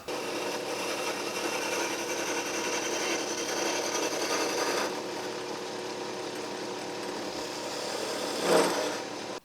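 Hand shaping of a wooden foundry rammer's wedge-shaped end with a file or rasp, a steady scraping and rubbing that runs throughout, eases off around the midpoint and ends with a brief louder scrape.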